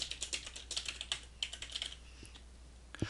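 Typing on a computer keyboard, a close run of quick key clicks in an irregular rhythm that thins out into a few isolated taps.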